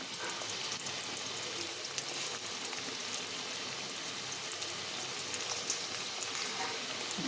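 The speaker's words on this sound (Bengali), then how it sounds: "আর এদিকে গরম গরম করে পেঁয়াজি ভেজে দিচ্ছি" Onion fritters (peyaji) fry in hot oil, giving off a soft, even crackling hiss that runs steadily throughout, fairly faint and without speech.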